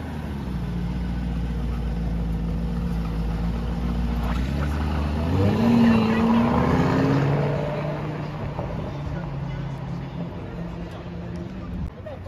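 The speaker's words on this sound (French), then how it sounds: "On a le Urus qui démarre là." A Lamborghini Urus starts up and pulls away on a Monaco street, its engine note swelling to a loud mid-range roar midway before fading as it drives off, with crowd chatter throughout.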